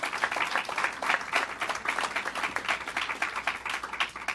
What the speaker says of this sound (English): So let's give them a round of applause for their leadership.